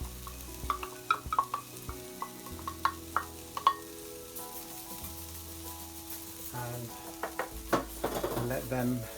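Two cloves of chopped garlic frying in a pan for a vegan shepherd's pie, a soft continuous sizzle broken by scattered clicks and scrapes of stirring, with louder utensil knocks toward the end.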